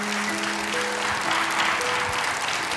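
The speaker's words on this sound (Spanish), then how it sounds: "Un aplauso que te damos desde aquí por estar emocionado por hablar de tu madre, hombre." Studio audience applause on a television talk show, a dense, steady wash of clapping that holds at a constant level for the whole stretch, with faint tonal music underneath.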